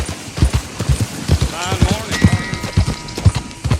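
Horse hooves clopping in a video game stable animation, a steady rhythmic run of close, loud hoofbeats, with a brief whinny and a person talking over them.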